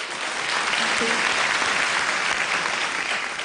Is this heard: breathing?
no